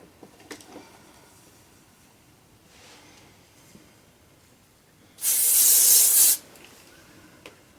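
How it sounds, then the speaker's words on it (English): Hairspray from an aerosol can is sprayed on beach-wave hair in one steady, loud hissing burst of about a second, set against a quiet room with faint light rustling before and after. "Spray."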